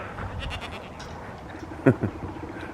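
A goat gives a short, wavering bleat nearby, followed by a fainter second cry, against quiet outdoor background noise.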